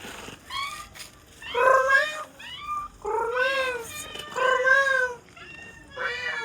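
A person imitates a cat, giving a series of drawn-out, wavering meows in quick succession with short pauses, close and clear.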